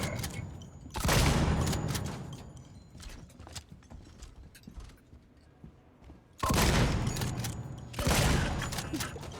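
Gunfire in the Alien: Isolation video game: two loud broadband blasts, with a further pair of shots near the end, separated by quieter ambient rumble.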